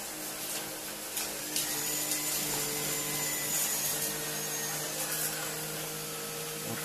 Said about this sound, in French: comment l'aspirateur se débrouille avec toutes ces saletés